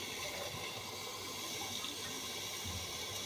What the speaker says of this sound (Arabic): الماء طايب نيشان، غير بدا كيغلي صافي الماء طايب